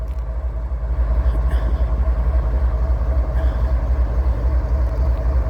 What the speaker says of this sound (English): So there's the lead locomotive. You can see the second car is the LNG, liquid natural gas tank car.